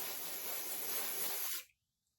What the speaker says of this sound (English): Let me just spray some in the front for you.